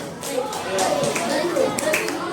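A fifth-grade primary school class claps, a brief patter of hands mixed with children's chatter and voices.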